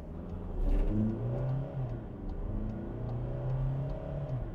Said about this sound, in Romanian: ce gălăgios e motorul diesel